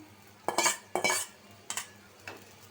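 Prawns stirred into a pan of cooking gourd curry, four separate scraping strokes of a spoon against the metal pan, close and moderately loud over a quiet background.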